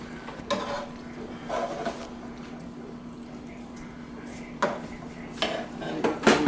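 Utensil scraping and clinking against a pan as turkey stuffing for Grandpa Pete's recipe is scooped out, a few sharp metallic knocks spaced irregularly over a steady low background hum.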